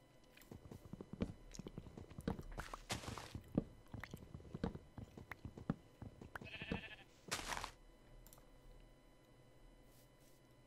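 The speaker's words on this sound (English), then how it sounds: "Is there another sheep around here?" A Minecraft sheep bleats a couple of times amid scattered clicks and crunching sounds, fairly quiet with brief louder bursts.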